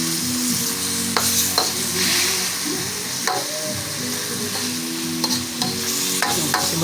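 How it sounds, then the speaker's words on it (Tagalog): Chicken pieces sautéed in a pan for a chicken, patola and miswa soup, with a steady close sizzle and repeated scraping stirs of a utensil against the pan, plus a few sharp clinks. "So, igisa lang natin rin yan."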